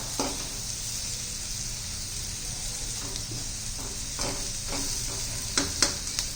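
Sliced potatoes fry in a pan with a steady close sizzle, while a utensil gently stirs them, giving a few soft scrapes and clinks toward the end; no one talks.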